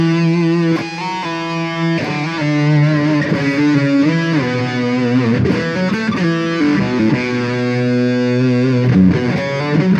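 Electric guitar played through an SP Compressor into a distortion pedal, giving a thick, loud, sustained mid-heavy tone with audible pick attack on each chord change, played alone without talking.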